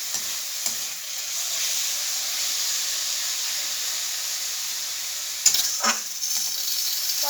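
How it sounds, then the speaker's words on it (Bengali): Maize greens and eggplant sizzle in a pan with a steady, close frying hiss, broken by a couple of brief stirring scrapes near the end. "শাক ভাজছি বেগুন দিয়ে, ভুট্টা শাক"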